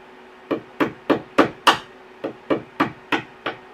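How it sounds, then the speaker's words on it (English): A hammer drives brad nails into a tongue-and-groove cabin kitchen ceiling, striking sharply about ten times in a steady rhythm, each blow a crisp, close knock with a short ring, no voices. "You can't hardly drive a brad nail with a hammer."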